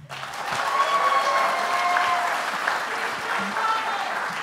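Audience applause at the 2018 Tewaaraton Award ceremony, a sustained wash of clapping from a crowd that holds steady for several seconds, fairly loud with faint voices mixed in.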